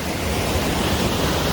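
Monsoon waterfall at Kalu falls in Malshej Ghat, a steady broadband roar of falling water heard from nearby, continuous and fairly loud with no talking.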